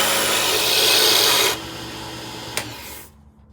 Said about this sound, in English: So now we use about 1 inch roughing gouge, which is going to help us round the square blanks